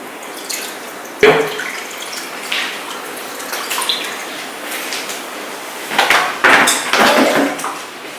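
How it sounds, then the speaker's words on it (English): Water poured slowly by hand from a small mug into a planted aquarium tank, with soft splashing and trickling pours arriving in several bursts, some louder than others, close by. "So now that we have filled back the water into the aquarium"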